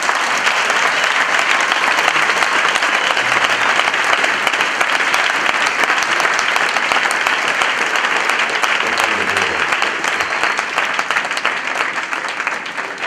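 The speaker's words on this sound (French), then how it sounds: "Clap for the Lord." A church congregation claps for the Lord after testimonies, a loud, dense, steady wash of applause filling the whole stretch and fading slightly near the end.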